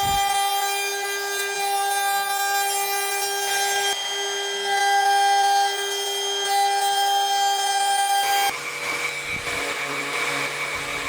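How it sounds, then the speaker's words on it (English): Wood being notched for cabinet hinges with a power tool, a steady high whine with strong tonal overtones that runs for about eight seconds, then cuts off into rougher workshop rattling and scraping close by. "I'm going to go ahead and notch out for the hinges before I glue this on."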